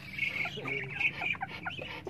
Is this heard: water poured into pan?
no